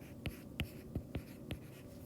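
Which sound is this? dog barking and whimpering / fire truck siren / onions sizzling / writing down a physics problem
writing down a physics problem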